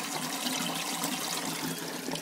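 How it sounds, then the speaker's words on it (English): Steady rushing water pours through an aquaponics siphon pipe, a continuous broadband wash and trickle at close range with no pauses, carrying on alone for a couple of seconds. "the pipe up here is keeping up with the water flow very well"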